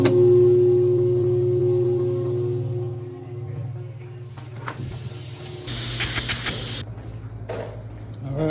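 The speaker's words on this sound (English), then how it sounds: "I will be ready to spray." A motor hums loudly, then a spray gun hisses in a steady burst for about a second, spraying Rhino bed liner on a 2023 Ford Raptor tailgate, amid background noise.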